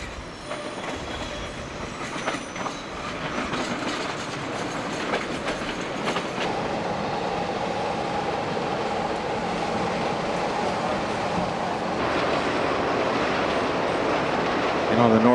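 A Chicago L Purple Line Evanston train runs along the tracks, a steady loud rumble of wheels and cars with some clattering and squeal, rising slightly toward the end, with a voice speaking over it.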